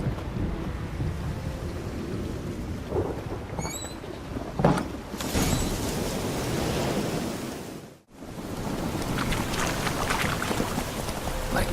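Rain and thunder in the video game The Witcher 3, a steady broadband wash of rainfall with a swelling rumble and a sharp burst near the middle, with no talk.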